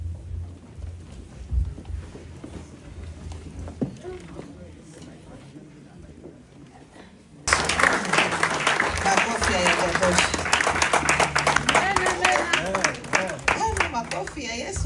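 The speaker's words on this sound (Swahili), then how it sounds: "Makofi ya Yesu hayo. Makofi kwa ajili ya Bwana." A church congregation bursts into loud, sustained applause and clapping for the Lord after a prayer, following a quieter stretch with a voice speaking.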